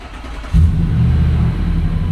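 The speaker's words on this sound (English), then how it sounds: "the real first start with the exhaust all done" A Nissan Patrol Y62 SUV engine turns over and catches, settling into a deep, steady rumble through a newly fitted exhaust right after a sharp start.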